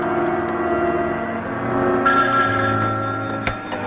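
A telephone bell in a 1979 film scene rings over a steady low background, its bright, trilling ring growing stronger about halfway through and carrying to the end with no talking.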